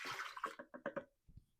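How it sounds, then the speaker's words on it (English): A cup of water poured into a blender or mixing container for a cholesterol-lowering recipe with broccoli and avocado, heard as a short burst of splashing followed by several glugging bursts, fairly close and alone. "First, we're going to put a cup of water in."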